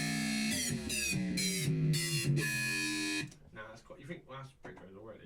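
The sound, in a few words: sub bassline made with Ableton Operator synth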